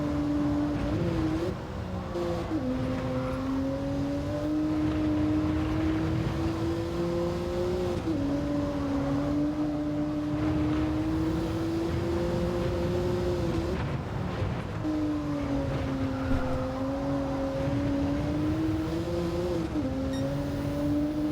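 A race car engine in Gran Turismo 7 drones steadily, its pitch stepping down with gear shifts as the car slows and then climbing again, loud and continuous without talk.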